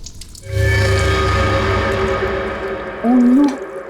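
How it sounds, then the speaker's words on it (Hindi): Water runs in a bathroom, a steady low rush that starts after a brief quiet and holds for several seconds, with a short louder tonal swell near the end. "बाथरूम में पानी बहने की आवाज आ रही है"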